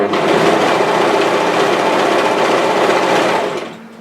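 Loud, close, continuous whirring of a sewing machine stitching a reversible hooded infinity scarf, running steadily for several seconds before slowing and stopping near the end.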